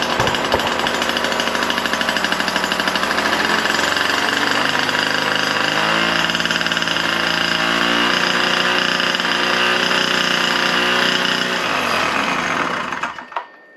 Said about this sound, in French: le moteur ne bouge plus, le bruit est très sourd, très faible